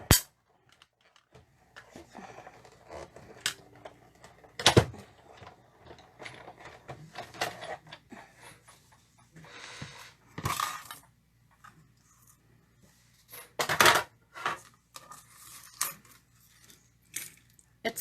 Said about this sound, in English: So then we're going to run this through the die cut machine.